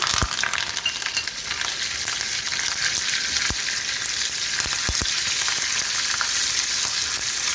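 Curry leaves and cumin sizzle in hot oil in a pan while cooking a fenugreek leaf dish. A loud, steady frying hiss runs throughout, with a few light stirring clicks.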